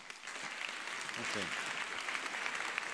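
An audience claps steadily at a question-and-answer session with the President of the European Parliament, the applause filling the whole moment while someone briefly says a word over it.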